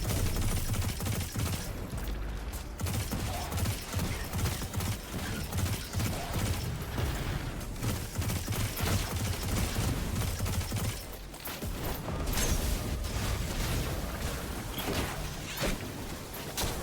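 Video game gunfire in Destiny 2, rapid bursts and mechanical clatter running almost continuously at a steady loudness, with a brief lull near the middle.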